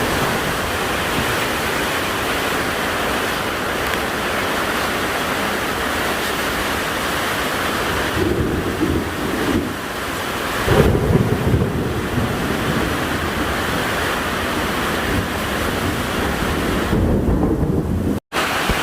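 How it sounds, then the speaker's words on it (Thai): A heavy rainstorm lashes a house with strong wind, rain blowing inside: a steady, dense roar of wind and downpour fills the whole stretch, with a low thunder rumble swelling near the middle. "ลมแรงฝนตกลมแรงมากเลยตอนนี้"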